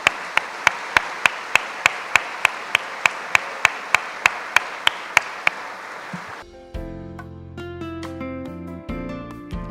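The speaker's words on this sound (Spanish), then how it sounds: "Damos ofrenda de palmas al Señor" A church congregation offers rhythmic clapping to the Lord during a Sunday service, about fifteen evenly spaced claps in a steady beat for six seconds, then the clapping stops and music takes over.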